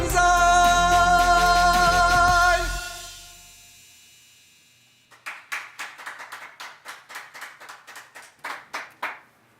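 After a sustained sung or played note fades out, a small audience claps following Auld Lang Syne, irregular nearby handclaps that come in two uneven bursts with a short lull between them.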